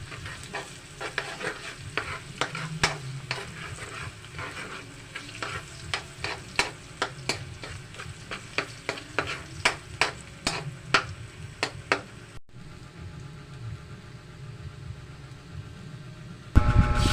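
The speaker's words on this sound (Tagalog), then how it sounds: "pagka kumukulo na ang ating margarine at ang mantika, ilagay natin ang bawang. Igisa natin ang bawang." Garlic sizzles steadily in bubbling margarine and oil in a pan, with repeated sharp scrapes and taps of a spatula stirring through it, then a brief clatter at the end.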